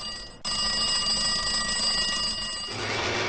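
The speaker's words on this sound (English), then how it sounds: "The telephone." An old telephone bell rings loudly and continuously, a bright metallic trill that starts abruptly after a brief quiet moment and cuts off near the end.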